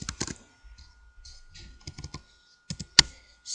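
Someone types Java code on a computer keyboard, a sparse run of close, soft key clicks with one louder keystroke near the end, heard alone without talking.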